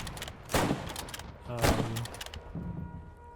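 A few sharp rifle shots crack at targets in the World War II shooter Squad 44, two or three distinct bursts with a short echoing tail, fairly distant and moderate in level, with no talk.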